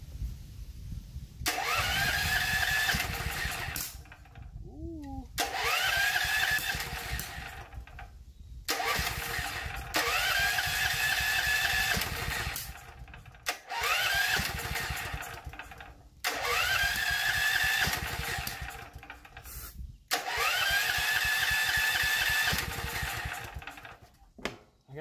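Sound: junked generator engine starting after choke and fuel on

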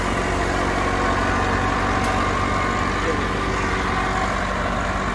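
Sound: tractor engine running while being cooled with water

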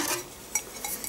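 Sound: taking ceramic pot out of slow cooker

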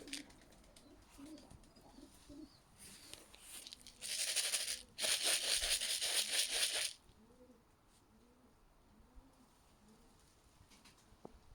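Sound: pigeons cooing

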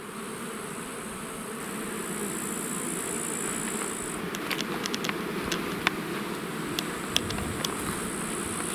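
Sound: honey bees buzzing around an opened beehive

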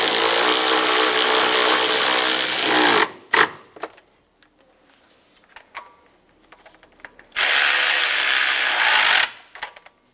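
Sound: tightening the intake hose clamp on a Toyota Tundra

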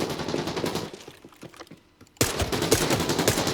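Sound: gunfire in video game Arena Breakout: Infinite

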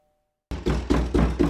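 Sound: knocking on a door

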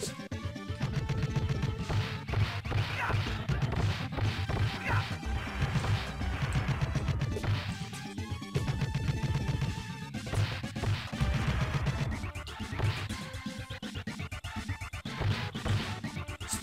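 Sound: smashing rock soldiers in Teenage Mutant Ninja Turtles: Turtles in Time video game

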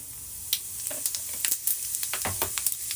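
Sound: mustard seeds and cumin sizzling in hot oil

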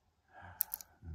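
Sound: picking a Nemef NF2 lock, pin clicking

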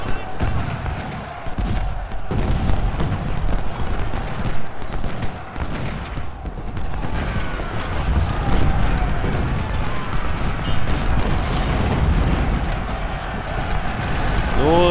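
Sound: cannon fire in video game Ultimate General: Civil War

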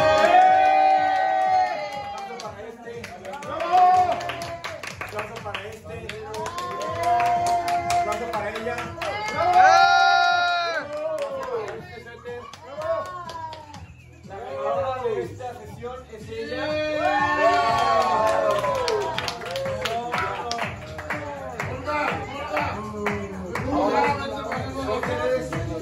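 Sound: audience applause for ugly sweater contest

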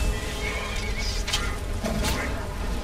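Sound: horse dying in video game Skyrim

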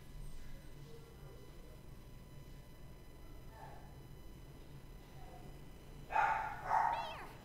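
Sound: barking dogs in the video game Shantae and the Seven Sirens

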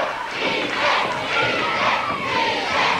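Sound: wrestling crowd shouting

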